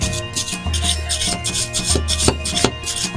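Steady rhythmic scrubbing strokes cleaning the blade area of a lawn mower, close and fairly loud, with a couple of sharper knocks between strokes.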